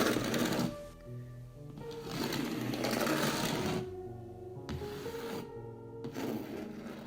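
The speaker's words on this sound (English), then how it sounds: "a scratching sound right beneath the cell made me jump awake." Scratching close beneath a cell comes as rough, rasping strokes in several bursts separated by short pauses, fairly quiet and with no voices.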